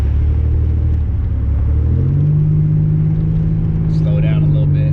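A 1987 Buick Regal turbo V6 rumbles loudly from inside the car, the engine note rising into a steady accelerating drone on the freeway, with a voice speaking briefly near the end.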